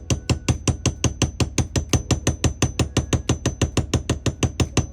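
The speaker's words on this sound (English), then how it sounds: "We'll grab my cheap ass bench block here, and we'll do a little tappy tap." Hammer tapping a pin out of an H&R Sportsman .22LR top-break revolver set on a cheap bench block, a fast, even run of about two dozen sharp, loud metallic taps close by, with no talk.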